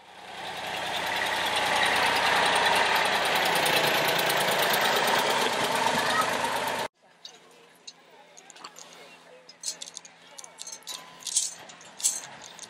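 A tractor engine on a rare-breeds sheep farm roars loudly and steadily up close, then cuts to quieter outdoor sounds with voices speaking.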